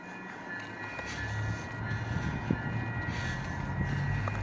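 A SMART Sonoma Marin commuter train, a Nippon-built railcar, rumbles past steadily at moderate distance, a continuous low mechanical drone with faint rail noise and no speech.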